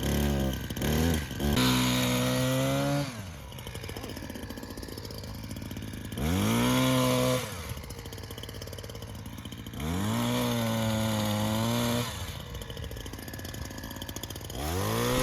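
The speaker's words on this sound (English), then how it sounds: "you can see my husband here trimming the Symphorcarpus, and he's trimming it pretty close to the ground" A gas-powered trimmer cuts a snowberry (Symphoricarpos) shrub close to the ground, its loud engine revving up and down in repeated bursts between rougher idling stretches, close by.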